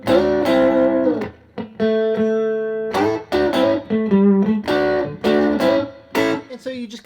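A Stratocaster electric guitar set between the neck and middle pickups plays clean bluesy notes and chords, loud and close, with short phrases separated by brief gaps.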